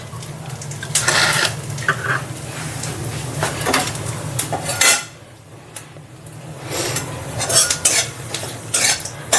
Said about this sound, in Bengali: খুব সামান্য একটু জিরে দেবো।